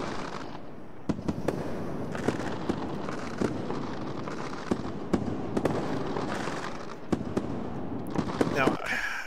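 Fireworks from a 16-bit WAV sound effect crackle with repeated sharp bangs scattered across a continuous rumbling fizz, fairly loud and sustained, and a voice is briefly heard near the end.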